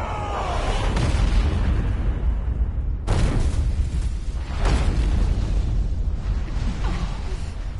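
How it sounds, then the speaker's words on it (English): Cannon fire in the video game Valkyria Chronicles 4, heavy booming explosions with a sharp blast near the three-second mark and rumbling impacts, loud and dense beneath a continuous low roar. "Cannon fire!"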